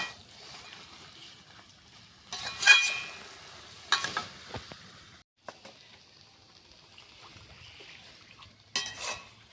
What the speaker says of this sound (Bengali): কচু শাক রান্না প্রায় শেষ হয়ে এসছে এবার আর একটু নাড়াচাড়া করে আমি নামিয়ে নেব